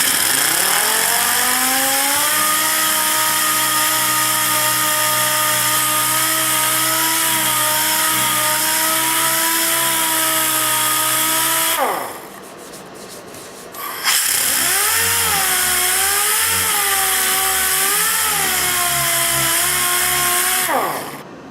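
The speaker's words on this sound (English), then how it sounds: "I'm sanding this deflector. I'm using a DA with a 240 grit piece of sandpaper." A DA sander with 240 grit sandpaper whirs steadily and loudly over a snowplow deflector for a Snowdogg VXF95. It runs without a break, cuts out for about two seconds, then starts up again and keeps going with no talk.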